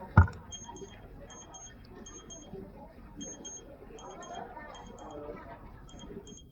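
High-humidity alarm on a BreatheSafe air quality monitor with LCD: repeated paired high-pitched electronic beeps in a steady rhythm, moderately faint, under someone talking.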